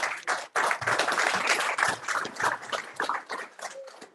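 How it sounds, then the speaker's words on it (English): An audience at a Hare Krishna Gita course session claps for the children, a dense, continuous burst of applause that fades slightly toward the end. "So here, we clap for all the kids"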